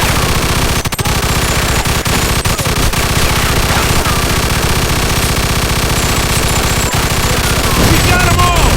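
Dense, loud automatic gunfire with rapid machine-gun bursts rattling nonstop in a Mafia II shootout, with shouting voices partly buried underneath.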